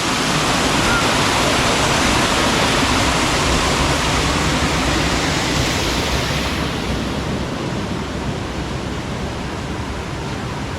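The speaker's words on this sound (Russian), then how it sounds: "Здесь что-то вроде такого водопада." A small waterfall at a former mill site roars steadily and loudly throughout, a dense, unbroken rush of falling water with no pauses.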